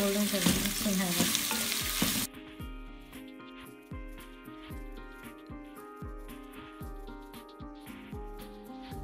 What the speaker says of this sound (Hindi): यखनी निकालने के बाद हमने 2 अदद प्याज को बारीक काट लिया है, अब हम इसको गोल्डन ब्राउन करेंगे